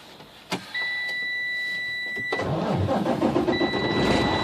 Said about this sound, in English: I like to start the engine, so I'm going to turn on the engine.